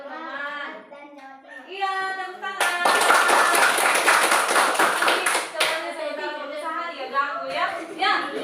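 Students in a classroom break into loud applause, a dense burst of hand clapping lasting about three seconds, framed by a teacher talking before and after.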